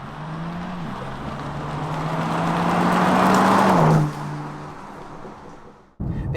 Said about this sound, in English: The exhaust note on this car though, however, does really add to the driving experience.